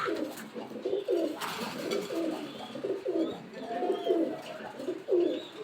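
Golden pigeons cooing steadily in soft, repeated low warbles, close by, with faint background ambience.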